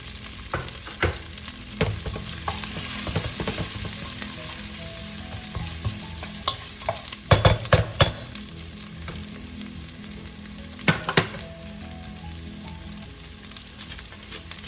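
Onions and celery sautéing in a pot for Filipino chicken noodle sopas, a close, steady sizzle broken by loud clacks and scrapes of a spoon stirring, with no one talking.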